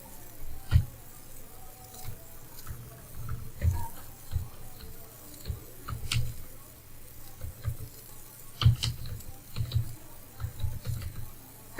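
Computer keyboard typing in irregular bursts of clicks while working in Adobe Illustrator on a business card design, moderately close and clear, with a few brief pauses between runs of keystrokes.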